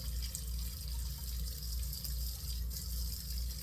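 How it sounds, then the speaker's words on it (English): Tap water runs steadily into a bathroom sink while someone rinses their face after a shave, a constant close splashing flow with a few faint drips and no talking. "Okay, let me rinse my face here."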